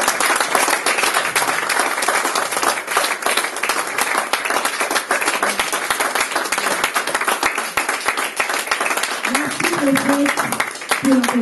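A church congregation applauding loudly and steadily throughout, with a voice rising briefly over the clapping near the end.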